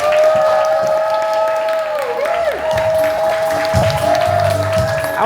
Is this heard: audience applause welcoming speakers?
yes